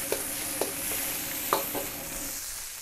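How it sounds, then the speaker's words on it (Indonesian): Garlic and shallots sauté in a pan for fried rice, a close sizzle broken by several sharp spatula clinks and stirring scrapes, no speech. "Kita tumis kejap sehingga dia naik bau"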